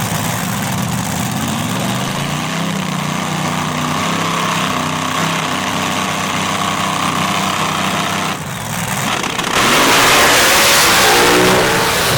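A drag racing car launches and accelerates hard down the track at a night record-attempt meet in Mississippi, its engine roaring loudly and steadily before the sound swells to an even fuller roar as it passes.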